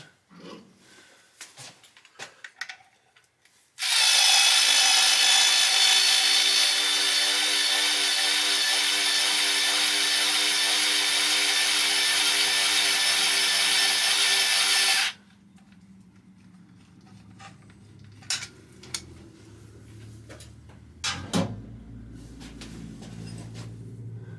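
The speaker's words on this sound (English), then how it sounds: "Let me open it up and give that a tighten." A workshop power tool runs loud and steady for about eleven seconds while a VEVOR 3-inch high precision mill vise is being opened and tightened, with brief clicks and handling knocks before and after.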